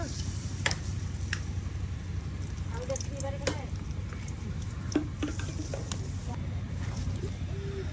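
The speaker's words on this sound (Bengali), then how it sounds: "এই যে আপনার তেলের সাথে সুন্দর করে ভেজে নেওয়া হচ্ছে চিংড়ি মাছের" Shrimp fritters (bora) frying in oil over a village cooking setup, a steady close sizzle and crackle with occasional clinks and stirring scrapes throughout.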